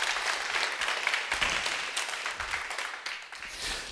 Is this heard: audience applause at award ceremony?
yes